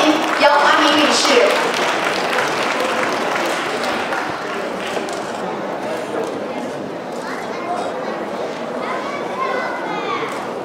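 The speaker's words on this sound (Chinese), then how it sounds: "掌声欢迎姚华明理事" At a Chinese school's 2014 graduation ceremony, an audience breaks into sustained applause to welcome a senior board member to speak. The clapping is strongest at first and then tapers slightly, with voices talking over it throughout.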